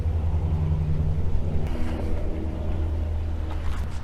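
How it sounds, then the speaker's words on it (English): Interstate 10 highway traffic heard from a campsite, a continuous low engine rumble and tire roar with steady hum, moderately loud and unbroken. "That's I-10 traffic."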